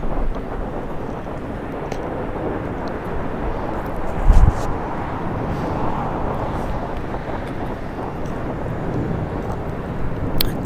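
An Alaska SkyWest Embraer E175 airliner passes at an airport, a broad steady roar of jet noise rumbling throughout with a brief thump partway through.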